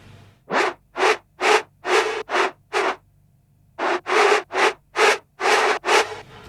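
A synth layer pitched up an octave and run through a texture plugin sounds as bursts of gritty, noisy hiss, six pulses, a short gap, then six more, close and alone.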